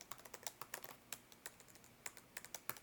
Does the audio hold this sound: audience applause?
no